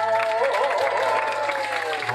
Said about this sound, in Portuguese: Quero palma pras prefeitas, pra prefeita que hoje trouxe os cantadores